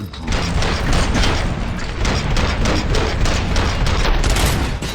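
Dense, continuous gunfire in the video game Robocop: Rogue City, rapid overlapping shots and booming bursts, loud and sustained throughout without a pause.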